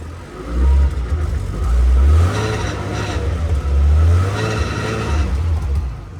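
A supercharged 3.2-litre engine of a 1995 Aston Martin DB7 with manual gearbox runs close by, swelling in repeated revs with a deep, throaty roar between steadier idling stretches.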